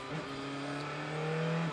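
Lucas Auer's number 22 DTM race car accelerates out of the pit lane at Budapest, its engine tone rising in a steady climbing whine, heard faintly as if from on board.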